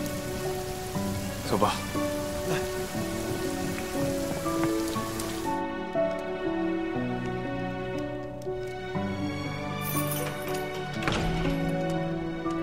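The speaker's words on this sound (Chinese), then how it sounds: "下雨了。" Rain falls steadily on surfaces, a dense continuous patter heard under dramatic background music, with a few brief spoken words over it.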